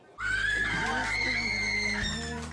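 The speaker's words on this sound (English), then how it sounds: "It is the home from deployment scream of all home from deployment screams." A woman lets out one long, loud, high-pitched scream of joy lasting about two seconds at a soldier's homecoming from deployment, in a neighborhood Chick-fil-A.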